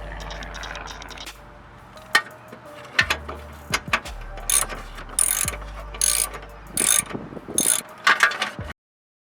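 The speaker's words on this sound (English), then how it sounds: "So remove these 2 bolts and the bolts in here to get this off." Ratchet wrench backing bolts out of a Scion tC transmission during a clutch job: bursts of rapid metallic clicking, close and loud, broken by short pauses and clunks, with no talk.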